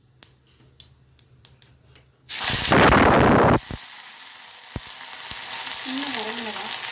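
Mustard seeds and curry leaves hit hot oil for a sambar, setting off a loud, sudden burst of crackling and popping that settles into a steady, softer sizzle with occasional pops after a few quiet taps.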